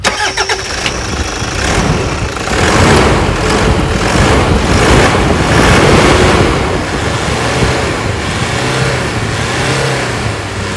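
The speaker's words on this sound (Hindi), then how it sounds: "अब मैं सेल्फ मार के आपको इंजन के साउंड सुनाता हूँ" A 2014 Toyota Fortuner 3.0 diesel cranks and fires up close by, then revs several times before settling into a loud, steady idle rumble.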